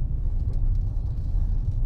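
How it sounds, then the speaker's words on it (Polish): A low, steady engine rumble from a Hyundai Bayon 1.0 T-GDI runs throughout, with a slight wavering throb and no voices. "Mam nadzieję, że uda się też nagrać dźwięk silnika."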